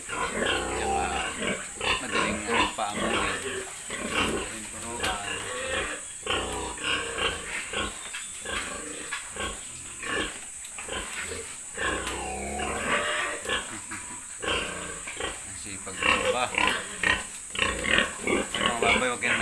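Several Large White pigs on a backyard farm grunt and snort close by in an irregular, continuous stream of short rough bursts, with some louder squealing toward the end.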